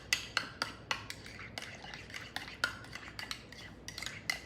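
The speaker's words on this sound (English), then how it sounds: "I'm just gonna use a spoon to stir those together" A spoon stirs brine into mayonnaise in a bowl for a sauce, giving a quick series of close, bright clinks and scrapes against the dish in an uneven rhythm, with no talking.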